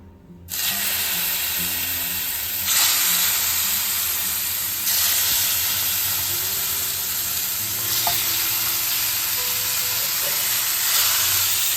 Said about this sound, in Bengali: কড়াটা গরম হয়ে গেছে এখন এর মধ্যে মাছগুলো ছেড়ে দিই ঝটঝট করে